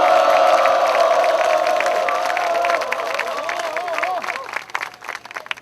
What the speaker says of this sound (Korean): 우리 서로를 격려하는 우렁찬 함성과 박수로